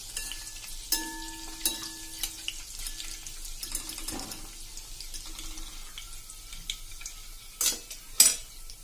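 Gulab jamun made from mawa frying in oil until golden, giving a soft, steady sizzle close by with scattered clinks and stirring scrapes from a spoon against the pan.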